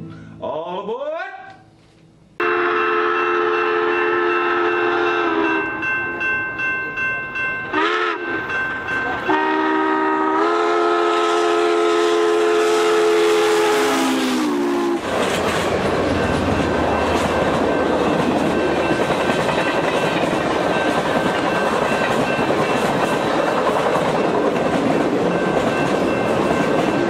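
A train horn blares in sustained blasts, then the steady rumble and rattle of rolling rail cars takes over, loud and continuous.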